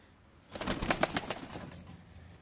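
Pigeons at a loft give a sudden two-second flurry of close, busy sound after a quiet start, then settle into a softer tail.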